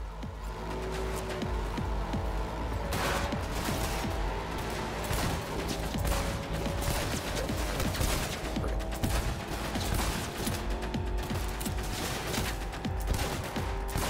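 Gunfire in Cyberpunk 2077 around Night City, a dense continuous barrage of rapid shots and crackling bursts over a rumbling vehicle-like background, loud and unbroken with no talking.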